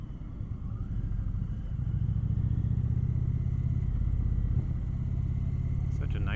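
Indian Chieftain Powerplus Dark Horse motorcycle, a 2025 model, idles with a steady low rumbling engine throb, close and continuous, with a slight swell midway and a few light clicks near the end.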